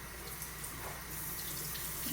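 Kitchen tap water runs steadily into a sink, wetting a countertop cloth, a continuous close splash and hiss with no voices.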